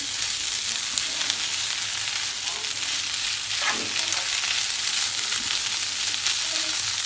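Ready-made döner meat, taken from the freezer, fries in a pan with a loud, continuous close-up sizzle and some stirring crackle throughout, with no voices.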